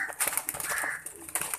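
Sialkoti pigeons, a black horse male and females, cooing and fluttering close by in a loft, with soft repeated coos and brief wing flaps over a busy background.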